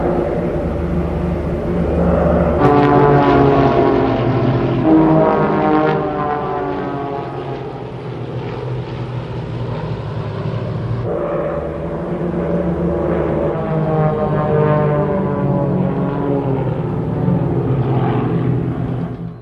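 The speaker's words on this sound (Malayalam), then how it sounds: "ആകാശത്ത് വിസ്മയകരമായ വർണ്ണക്കാഴ്ചകൾ ഒരുക്കിയായിരുന്നു എയർ ഷോയിലെ വ്യോമാഭ്യാസ പ്രകടനങ്ങൾ" Aircraft flying display at the Bahrain International Airshow: loud, sustained engine roar of aircraft passing overhead, rising and falling with a sharp surge partway through, continuous for the whole stretch with no talk.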